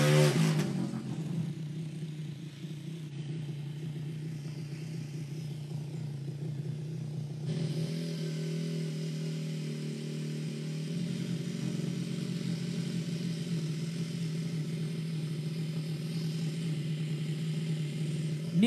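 A race motorcycle engine in the PS1 class at a Melaka drag event runs steadily at idle with a low, even hum, after a brief rev at the start and a shift in tone partway through.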